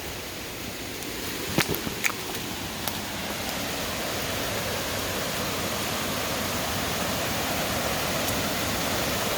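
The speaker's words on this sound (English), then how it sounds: "And that's that waterfall." A waterfall at the end of a hiking trail roars as a steady, dense, broadband rush that stays even and loud throughout, with a few faint clicks near the start.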